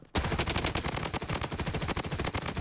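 Rapid automatic weapon fire in the video game Blood Strike, a loud, close burst of evenly spaced shots that runs continuously from just after the start to the end.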